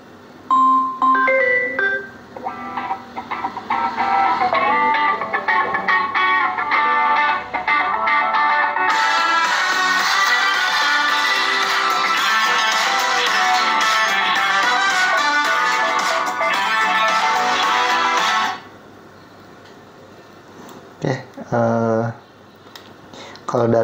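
A Samsung Galaxy S22 or S23 Ultra phone plays its ringtone, a bright chiming electronic melody that runs continuously for about twenty seconds, louder in the middle, then cuts off, followed by a few short sounds.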